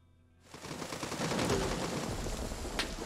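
Sustained automatic gunfire from Rising Storm 2: Vietnam on a night map starts abruptly and continues as dense, rapid bursts, loud and fairly close, with one sharper crack near the end.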